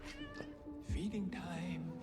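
A cat meowing in the animated series Arcane, a short faint mew heard against a quiet music background.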